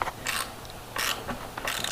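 A ratchet driving a T40 screw to fasten down a mat, three quick bursts of rapid clicking separated by pauses, close and fairly quiet, no talking.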